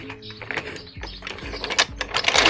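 A jack lifts a C6 Corvette with repeated ratcheting strokes, close mechanical clicks and clunks alongside low metallic thumps at a steady pumping rhythm.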